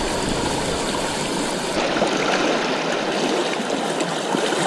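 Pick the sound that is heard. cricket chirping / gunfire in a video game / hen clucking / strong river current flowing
strong river current flowing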